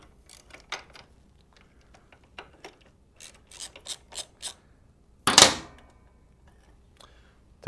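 A bolt being loosened and removed on a Harley Sportster during charging system work, heard as a series of quick close ratchet clicks and small metallic ticks, followed by a louder rattling clank, with no talking.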